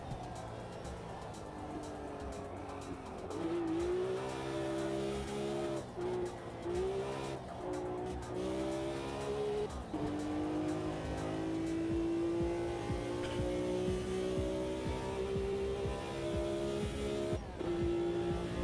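A race car in Automobilista 2 drives hard, its engine note climbing and dropping through gear shifts, with tire squeal in the corners.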